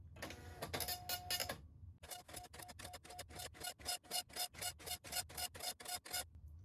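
A dot-matrix-style printer prints a greeting card from Broderbund Print Shop, with a dense buzzing burst, a short pause, then a long run of regular rasping passes back and forth, close and clear.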